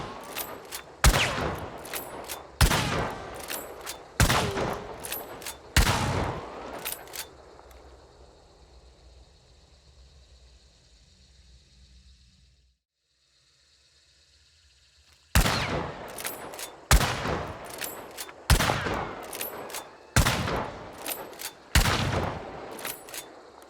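Centennial rifle fired from the hip with standard ammo in Hunt: Showdown: loud, sharp gunshots in evenly spaced bursts, roughly five shots, then a quiet pause with a faint tail, then another volley of about six shots.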